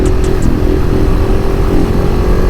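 A KTM 690 SMCR single-cylinder motorcycle pulling hard under throttle, a loud, steady engine roar mixed with wind rush, recorded close from the rider's position.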